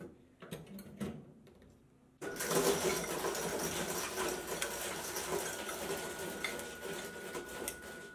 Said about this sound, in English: Its powerful cutting system easily shreds entire decks of playing cards, dice, and poker chips.